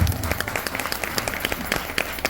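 An audience at a lively network-marketing gathering claps steadily, with dense, continuous applause at moderate volume throughout and no clear pauses.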